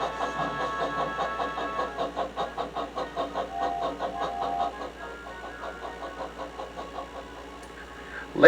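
Toy steam engines in a Thomas the Tank Engine cartoon puff away in a fast, rhythmic chuffing with tonal whistle-like notes that fades toward the end, followed by a sudden sharp sound.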